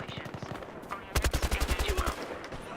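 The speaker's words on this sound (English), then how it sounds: "There's some great shooting right there already" Gunfire in Battlefield Hardline team deathmatch on the Hollywood Heights map, a light burst early on, then a loud rapid stream of close automatic shots in the middle, fading to quieter background noise.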